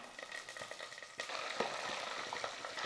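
Quiet crackling and spitting of mustard seeds, fenugreek, cumin and curry leaves frying in hot oil, with an irregular sizzle that grows busier partway through.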